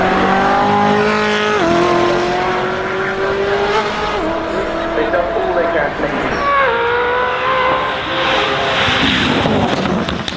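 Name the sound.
Koenigsegg Jesko supercar accelerating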